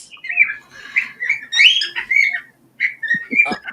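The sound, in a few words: bird calling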